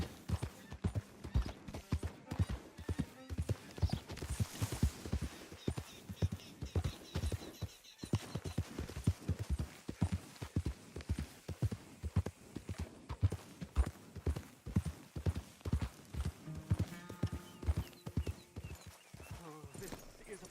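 Horse galloping in Red Dead Redemption 2, a fast steady clip-clop of hooves throughout with a brief pause midway, a voice murmuring faintly beneath.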